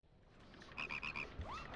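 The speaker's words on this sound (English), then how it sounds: "Ah! Frogs! No, don't stack on top of each other." Frogs croak in the Pikmin 2 video game, a quick run of about four bright, pulsed croaks followed by a rising swoop, moderately loud over a soft game background with no talk.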